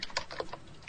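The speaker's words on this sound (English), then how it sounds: "You can hear me typing in the background here." A short burst of typing on a computer keyboard, a few quick close key clicks in a light irregular rhythm, heard alone.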